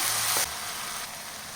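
Tomatoes sautéing in a pan for spinach paneer gravy make a soft, steady sizzle that starts brighter and then settles into a quieter, even hiss, brief and close with no talking.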